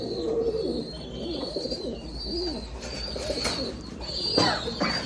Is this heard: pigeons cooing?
yes